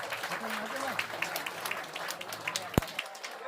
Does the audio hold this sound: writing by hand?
no